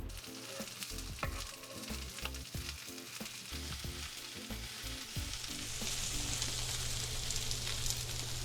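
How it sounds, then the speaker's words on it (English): Cooking oil sizzling in a hot pan as peppers fry, a continuous crackling hiss with stirring scrapes and clatter, growing steadier and brighter toward the end, close and without talk. "We're gonna put about 2 to 3 teaspoons of cooking oil in our hot pan."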